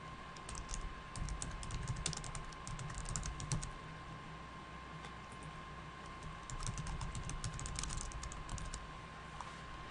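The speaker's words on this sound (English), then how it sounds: "as I type the words" Steady, fast keystrokes rattle on a computer keyboard in bursts, close and fairly quiet over a faint electrical hum, with no voices.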